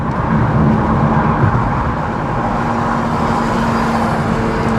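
A VW T-Roc Cabrio R Line convertible accelerates toward 50 mph, a steady engine drone mixed with road and wind roar, loud and continuous with a faint tonal hum throughout and no talking.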